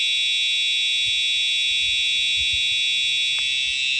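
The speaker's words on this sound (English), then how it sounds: "So we're just gonna open it with the key." Simplex 2099-9754 fire alarm pull station sounding indoors with weak batteries, a continuous high electronic alarm tone held steadily throughout, with faint handling noise underneath.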